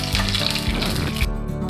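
Mustard seeds, cumin, dried red chillies and curry leaves sizzle loudly in hot oil for an ivy gourd curry, a dense steady crackle and hiss up close throughout.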